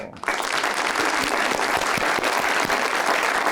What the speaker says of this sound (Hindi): अब ये तो दोनों के लिए है ताली